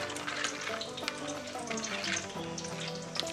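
Cabbage and vegetables fry in hot oil in a pan for a vegetarian Bengali dish, a continuous crackling sizzle with occasional stirring scrapes, heard up close and fairly quiet with no talk.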